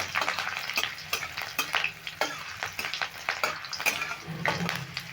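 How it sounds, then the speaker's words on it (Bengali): Spices and slit green chilies sizzle and crackle in hot oil as a tempering, with a steady frying hiss and occasional stirring scrapes, close up and continuous. "ফোড়নটা ভালো করে ভেজে নেব"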